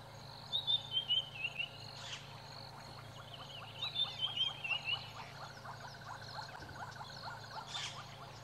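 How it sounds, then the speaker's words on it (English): Several birds call in the distance at sunrise, bright chirping phrases repeating in bursts over a quiet, steady background of insects. "listen to all the birds that have just started calling."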